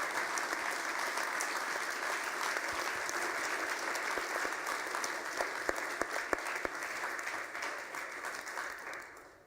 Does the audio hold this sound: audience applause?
yes